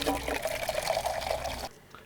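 Water pours steadily for about a second and a half as an edited sound effect, a continuous splashing flow that cuts off abruptly near the end, leaving brief quiet.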